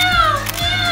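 A person's voice gives a drawn-out, wavering meow in imitation of a cat, with a second short vocal sound following.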